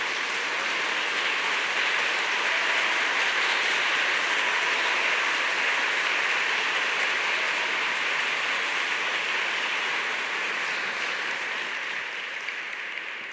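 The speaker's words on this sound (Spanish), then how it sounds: "Le damos un aplauso de agradecimiento a Fray Nelson" Sustained applause of gratitude for Fray Nelson, a steady dense wash of many hands clapping at an even level for the whole stretch, hissing like heavy rain and tapering slightly at the end, with no voices over it.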